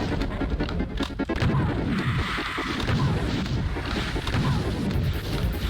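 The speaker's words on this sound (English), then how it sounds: "Feels nice to superbly shotgun my enemies once again." Super shotgun blasts in Doom II on the Neo-Bronx Rumble map, a dense run of loud booming shots and crashes packed together with constant game noise and no pause between them.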